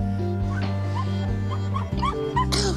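A dog shut in a car in Houston, Texas, gives short yips and high whimpers over a steady tonal background drone, several cries in quick succession.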